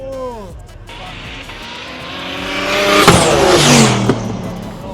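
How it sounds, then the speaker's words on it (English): Race cars accelerate hard down a Queensland roll racing strip, engines revving up with rising pitch, growing louder toward the middle and peaking near the end, while a commentator talks over the engine roar throughout. "Romanos is racing another car."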